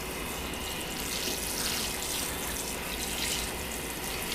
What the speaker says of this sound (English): I'm just using cold water because nothing is very dirty.